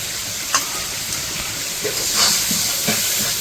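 Spices and salt sizzle and fry in a pan for village-style chicken curry, a steady hiss with occasional soft stirring scrapes and small spits, continuous and moderately close.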